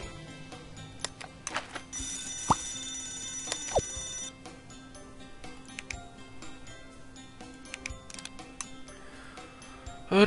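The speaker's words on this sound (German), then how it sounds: "Feueralarm" A fire alarm bell in the video game Scribblenauts Unlimited rings in a bright burst near the middle of the clip, set among scattered ticking and clicking game sounds. Nobody speaks.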